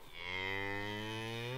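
A herd of farm animals arrives on a farm, and one cow gives a single long, clear moo with rich harmonics, close and fairly loud, with no talk over it.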